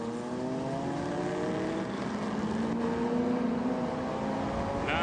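Lancia Scorpion race car number 576 in the pits, engine note steadily rising and holding in a continuous droning whine, with other engines nearby and no talk.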